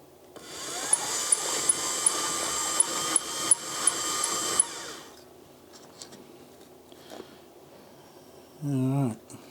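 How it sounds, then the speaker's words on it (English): An electric motor driving a toothed belt starts up on a test run, whining and rattling loudly with rhythmic ticking clicks for several seconds before cutting off, leaving faint handling noises and a short voice near the end. "ensured that the tooth belt is properly on the motor. So let's give it a test drive."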